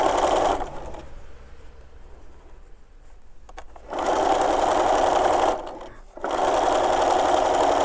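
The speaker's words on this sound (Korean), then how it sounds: "미싱 하실 때는 이렇게 한쪽 손으로 붙잡고 얘는 약간씩 밀어준다고." A sewing machine stitches an eco bag in loud, even bursts of fast mechanical whirring, pausing in quieter stretches between runs, close and without talk.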